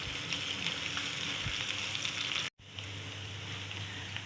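Garlic ginger paste frying in hot oil with cumin, a steady close sizzle and crackle that cuts out briefly for a moment before continuing just as evenly, with no voices.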